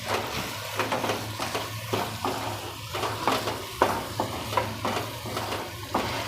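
A spoon stirs soya chunk and corn curry in a pan, giving repeated scraping and soft sizzling strokes in an irregular rhythm, close and moderately loud over a low steady hum.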